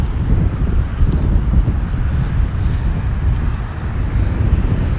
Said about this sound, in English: I just wish it wasn't so windy